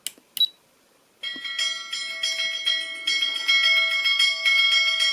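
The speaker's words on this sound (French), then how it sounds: "Une cloche." Bell sound played from a DY-SV5W sound board through an amplifier: two short clicks, a pause, then a ringing metallic bell that repeats and sustains loudly with rich shimmering overtones for about four seconds.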